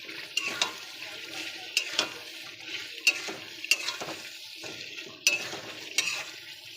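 Pointed gourd stirred and frying in hot oil for a stuffed gourd curry, with a steady soft sizzle and repeated sharp scrapes and clinks of a spatula against the pan, close up and with no talking.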